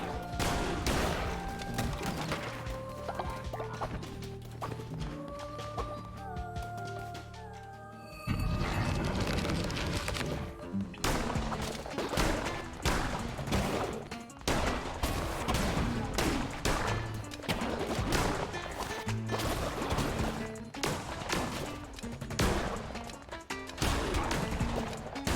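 Shotgun fire in the video game Cult of the Lamb: after a stretch of background game music, rapid repeated blasts follow one another in quick volleys, loud and up close, continuing to the end.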